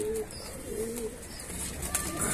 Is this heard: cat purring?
no